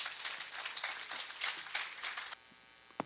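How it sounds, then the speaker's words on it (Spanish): Steady crowd applause at an anniversary ceremony for a biosphere reserve, dense clapping running about two seconds, then suddenly dropping to near silence, with one faint clap near the end. "Vamos a brindarle un fuerte aplauso."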